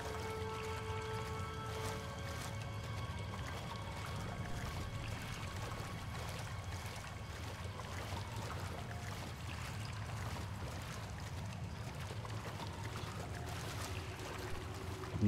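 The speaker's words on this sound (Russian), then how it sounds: "О, представьте, это застоявшаяся вода" Stagnant water in a dungeon in the video game Oblivion, a steady low watery murmur with faint trickling and dripping that continues evenly throughout, with no talking.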